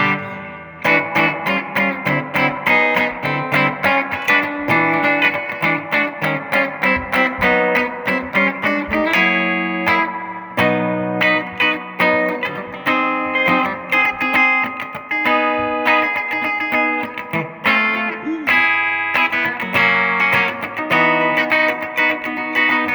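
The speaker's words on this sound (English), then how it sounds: "A lot of reverb there. So that's your spring reverb." An electric guitar played through a Peavey Triumph 60 amplifier with its spring reverb turned up strums chords and picked notes, loud and sustained, each attack trailing a washy, splashy reverb tail, with no talking.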